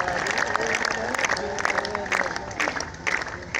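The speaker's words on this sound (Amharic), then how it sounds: "አጨብጭቡላችሁ" Audience clapping at an award ceremony in Ambo, a dense, steady patter of many hands filling the space, with voices murmuring underneath.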